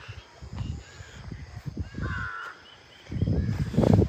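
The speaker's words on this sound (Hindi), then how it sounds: "कौवे भी बोल रहे हैं, बहुत प्यारी चिड़िया भी बोल रही है उस तरफ।" Crows cawing in the Dhikala forest of Jim Corbett, several rough calls in short bursts at mid distance, with another bird calling faintly higher up and louder cawing clustered near the end.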